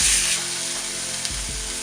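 A steak sears in an oiled cast iron skillet with a dense, loud, steady sizzle and spatter that continues for the whole moment, heard up close.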